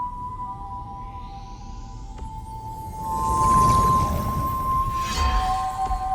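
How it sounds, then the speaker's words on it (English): A thin, eerie whistle in a DreamWorks animated film holds a sustained tone, wavering slightly, over a low ominous rumble that swells midway. "here comes that whistle again."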